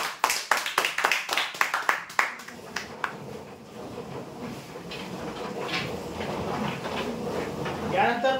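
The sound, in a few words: loud applause for the prize winners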